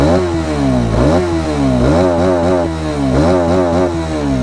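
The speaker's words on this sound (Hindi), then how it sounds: "इसका एग्जॉस्ट नोट अच्छा लगा होगा।" Close, loud exhaust note of a Hero Xtreme 250R motorcycle being revved repeatedly, each throttle blip rising and falling in pitch in a regular rhythm over a steady idle, with no talking.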